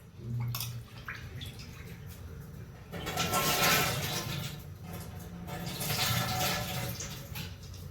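Water poured into a pot of rice for methi ganji, a Mangalorean dish, a splashing, gushing pour that starts quietly, swells after a few seconds and keeps running steadily near the microphone.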